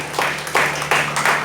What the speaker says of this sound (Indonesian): Yuk, yang setuju tepuk tangan bagi Allah.